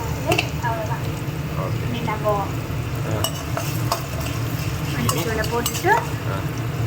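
Lemon sevai is stirred and scraped in a pan with steady sizzling underneath, a spoon occasionally clinking, while voices murmur faintly in the background.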